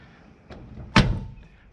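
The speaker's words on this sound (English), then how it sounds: "Door still shuts beautifully." A 1975 Chevy stepside truck door swings shut with one solid, close thunk, preceded by a faint knock, then quiet.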